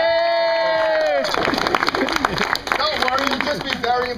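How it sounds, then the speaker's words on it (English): A crowd at a Renaissance fair pirate show claps and cheers for a volunteer in a sea hag wig, a burst of scattered clapping and whoops rising after a sung or drawn-out voice, with talk over it. "A round of applause for the sea hag."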